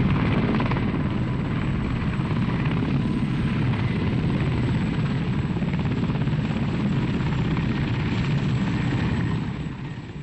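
A helicopter in flight, a steady loud rotor and engine drone that holds constant throughout and eases slightly at the very end, with no voices.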